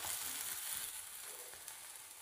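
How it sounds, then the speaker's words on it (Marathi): An onion paratha fries in oil on a pan, giving a soft, steady, close sizzle with no talking. "पुन्हा एकदा आपण हा पराठा उलटवून घेऊ."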